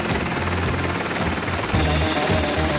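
A helicopter's rotor thumps steadily with a loud engine whine, close and continuous throughout.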